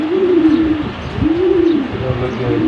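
Racing pigeons coo in low, rolling, repeated calls close by, several drawn-out coos swelling and fading over a steady murmur of background noise.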